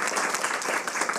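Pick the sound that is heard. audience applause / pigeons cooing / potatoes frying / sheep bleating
audience applause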